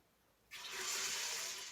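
Water gushes steadily into a large pot of beans, starting abruptly after a quiet moment and continuing as an even, close rushing pour.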